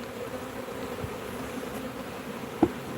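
Honeybees at an open hive being smoked to drive them down before the lid goes on: a low, steady, faint drone throughout, with one brief louder bump near the end.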